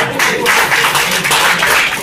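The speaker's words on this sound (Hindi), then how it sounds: "जोरदार तालियां हो जाएगा" A crowd at a Valentine's Day couple ceremony for people with disabilities in India breaks into dense, steady clapping, loud and continuous for the whole stretch with no talk over it.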